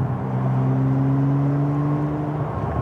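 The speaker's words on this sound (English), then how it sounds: "Sixth gear, giving it gas, no slippage." A 1999 Ferrari 550M V12 pulling in sixth gear under throttle, a steady low drone heard from inside with a slowly rising engine tone over road noise, no talk.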